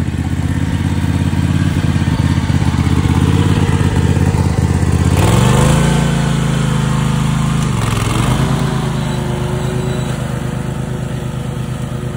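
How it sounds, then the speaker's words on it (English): Small gas engine of a lawn mower running steadily while cutting a small grassy patch at a Florida campsite, loud and close, with the pitch dipping under load around the middle before recovering. "he's gonna help me mow this little spot here for 20 bucks"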